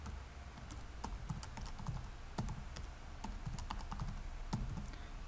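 Fingers type a password on a computer keyboard, a quiet, irregular patter of key taps over a low background hum, with no voices.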